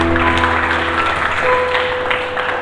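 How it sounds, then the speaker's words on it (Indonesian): Applause from a church congregation during a Sunday service, a dense wash of clapping that stays steady throughout, with sustained musical tones underneath. "Berikan tepuk tangan yang meriah Ibu Borunei Baho."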